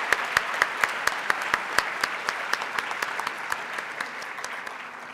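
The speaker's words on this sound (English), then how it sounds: "Let's give another round of applause." Audience clapping after a live performance at a 2017 gathering, with sharp, evenly spaced claps in a steady rhythm, fairly faint, over a soft bed of broader applause that thins toward the end.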